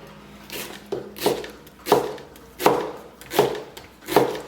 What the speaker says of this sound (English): cutting a little bit at an angle